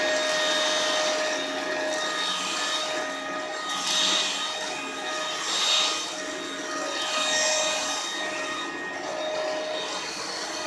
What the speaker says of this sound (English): here's the original rocket in action